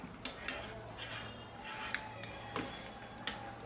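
Fried onions being added to egg korma in a pot: soft clinks and taps of a spoon against the cookware, spaced irregularly, quiet and close, with a faint background hum.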